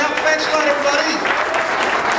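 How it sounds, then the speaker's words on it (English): Audience applause at a magic performance, steady clapping from a crowd with a voice talking faintly underneath throughout. "Give a nice round of applause for helping out."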